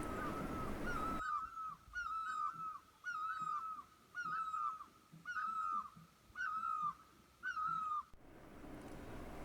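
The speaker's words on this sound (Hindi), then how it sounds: "कितनी साफ चिड़ियों की आवाज आ रही है यहाँ" A bird repeats a clear, bright whistled call about once a second, eight times in a row, with soft chirps above it, against light outdoor background noise on a foggy walk at about 7,300 ft.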